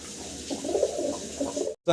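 Pigeons cooing softly at close range, a few low rolling coos over faint background noise, ending in a brief silence and a short burst of sound.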